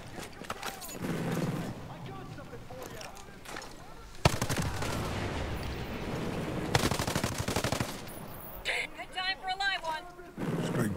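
Bursts of automatic gunfire in the video game Ghost Recon Breakpoint, loud rattling volleys broken by pauses, with people talking in between.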